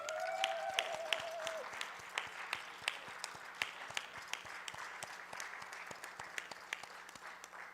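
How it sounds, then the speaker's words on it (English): A standing audience at a regional chamber of commerce gathering gives a round of applause, with sparse distinct claps spread across the room, fairly faint and continuing steadily, and a brief voice or whistle near the start. "I just really want us all to stand up and give him a big round of applause."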